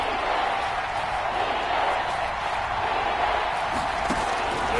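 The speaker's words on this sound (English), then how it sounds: "That just means this crowd's going to get even louder." Steady roar of a stadium crowd in the football game Madden 22, a dense, even wash of cheering and murmur that holds at a constant loud level throughout without any breaks.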